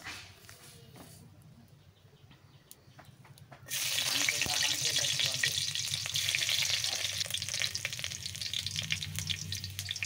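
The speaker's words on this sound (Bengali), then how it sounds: "কড়াইতে দিয়ে দিলাম পরিমাণ মতো সরিষার তেল" Chopped onions hit hot mustard oil in a large wok and burst into a loud, steady sizzle after a quieter opening, frying on continuously close to the microphone.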